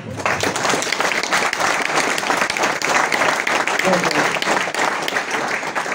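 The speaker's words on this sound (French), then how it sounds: "Voilà, on peut l'applaudir." A congregation applauds Nadia at a church gathering, sustained and fairly loud clapping from many hands that stays dense throughout, with some voices mixed in.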